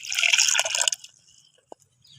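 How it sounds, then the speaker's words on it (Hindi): Water is poured for a mint and lemon shikanji drink, a short liquid splash and trickle lasting about a second, followed by a single soft drip and near silence. "थोड़ा सा पानी डाल दूँगी।"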